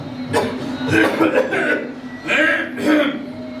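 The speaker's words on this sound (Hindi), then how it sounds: "वो जोरों से खांसा" A loud, close cough from a man in a Hindi radio-drama adaptation of a short story, a few harsh bursts over about three and a half seconds, with voice-like sounds around them.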